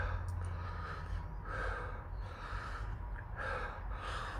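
Heavy, labored breaths with gasps and snorts from a man burning after eating Caribbean Red habanero peppers outdoors, several close rhythmic inhales and exhales over steady low background rumble.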